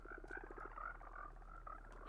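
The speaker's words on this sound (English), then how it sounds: "Frogs." Frogs in Minecraft 1.19 croak in a continuous, overlapping chorus of rapid warbling calls over a steady low hum, fairly faint and without speech.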